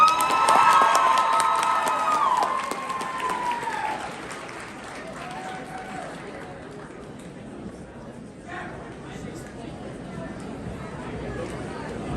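Audience applause and cheering in a hall after a high school student's campaign speech, with a whooping voice early on, then fading into crowd chatter and scattered claps.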